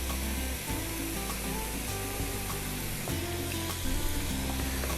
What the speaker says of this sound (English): I'm going to add my onion, and I've added the garlic.